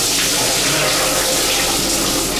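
A hotel shower set to a Caribbean storm mode pours steadily, a loud, dense hiss of water spraying and splashing close by, unbroken and with no voices.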